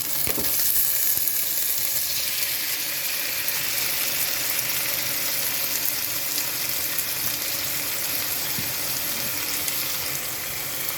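Chillies and tomatoes frying and being stirred in a pan for a soya meat biryani, with a steady loud sizzle and occasional scrapes of the spoon, close and continuous with no talk.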